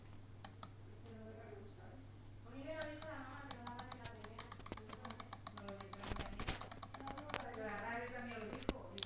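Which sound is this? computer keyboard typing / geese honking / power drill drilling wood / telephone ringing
computer keyboard typing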